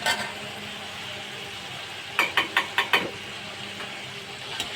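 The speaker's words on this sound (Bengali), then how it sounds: "হালকা হালকা ভাজা ভাজা হয়ে গেছে" Vegetables frying in a pan for Bengali-style vegetable rice, a steady close sizzle broken midway by a quick run of five or six sharp scraping strokes of a spatula, with no one talking.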